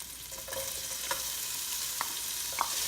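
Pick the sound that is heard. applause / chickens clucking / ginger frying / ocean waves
ginger frying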